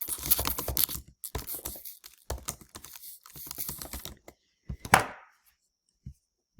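Someone types an email address on a computer keyboard, fast close-up clicks in quick bursts separated by short pauses, ending with a few isolated harder key presses.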